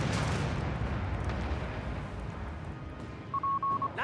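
Heavy gunfire and artillery in the Company of Heroes 3 video game's fall of Tobruk: a loud rumbling blast fades into a low battlefield roar, with a short electronic beep near the end.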